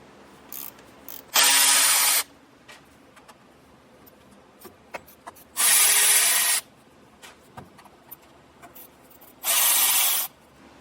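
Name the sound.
removing T40 Torx bit screws from a plastic bracket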